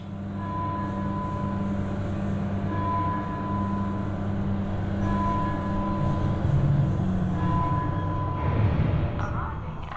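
A tram glides along its track in Mass Effect 2, a steady rolling rumble with a faint metallic whine, continuous and moderately loud.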